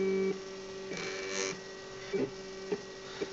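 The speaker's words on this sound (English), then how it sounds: "So the printer itself is printing in ABS plastic" A 3D printer printing in ABS plastic fed from a reel gives a steady electrical hum and tonal whine, broken by a few short mechanical bursts of motor movement.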